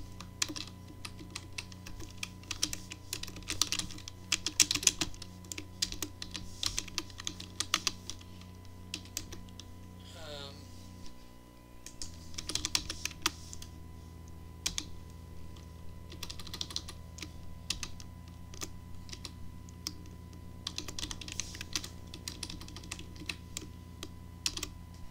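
Steady typing on a computer keyboard runs for the whole stretch, with dense clicks that come in short bursts and brief pauses, close and clear over a low background hum.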